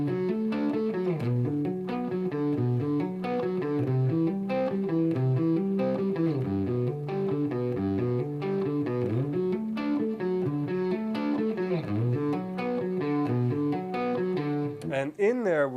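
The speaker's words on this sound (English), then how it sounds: "so what you want to do is practice it slow," Electric guitar with distortion plays a slow arpeggio exercise of picked notes and hammer-ons, a steady repeating pattern of rising and falling notes, close and clear with no talking.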